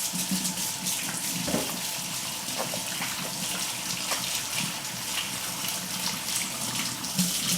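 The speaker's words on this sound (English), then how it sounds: "First, of course, I gotta wash my hands." A kitchen tap runs steadily while hands are washed, a close, constant splashing gush of water with slight changes in the flow throughout.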